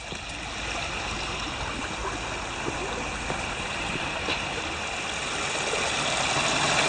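A creek runs over bedrock in a rocky streambed below waterfalls, giving a steady, close, broadband rush of flowing water that continues without a break.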